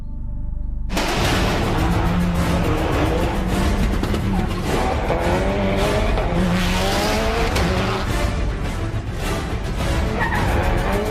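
A Subaru Impreza rally car driven hard with tyres skidding, its loud, strained engine roaring continuously close by as squeals and revving surges overlap for the full length, with no talking.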